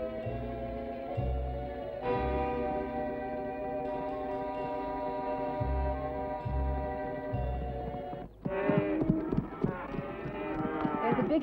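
A big herd of cattle lows on open western range, with several long, drawn-out moos overlapping one another. A brief pause is followed by a burst of higher, wavering bellows.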